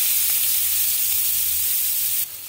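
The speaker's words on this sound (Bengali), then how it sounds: "যে তেলটাতে বেগুন ভেজেছিলাম সেই তেলে পেঁয়াজটাকে ভাজবো।" Chopped onion sizzles in hot oil left over from frying eggplant, a steady, bright hiss that holds evenly and then drops slightly in level near the end.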